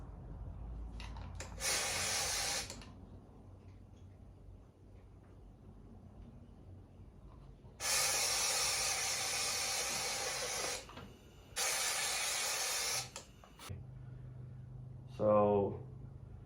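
A cheap DIY powder coating gun sprays powder onto a part with no spray booth, in three loud hissing bursts of a second or a few seconds each, separated by quieter room noise.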